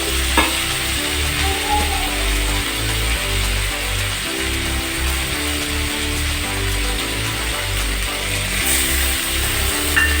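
Spice paste loosened with water fries and bubbles in a pan, a loud continuous sizzle with rhythmic low scraping and knocking from stirring throughout.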